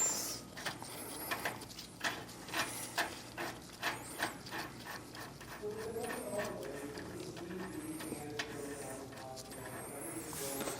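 A hand ratchet with a 1.5-inch socket clicks in a series of quick, distinct pulls while loosening a trailer axle nut on a fifth wheel, quiet and close, then fades into softer handling noise.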